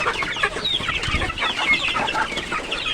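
Free-range village chickens cluck and chatter steadily inside a coop, several birds close by making overlapping calls, with busy scratching and rustling beneath them.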